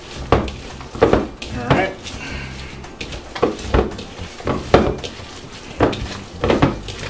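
Savory meatloaf mixture with onions and bell peppers being mixed in a bowl, with repeated knocks and scrapes of a utensil in an uneven rhythm, close by, and a voice speaking briefly.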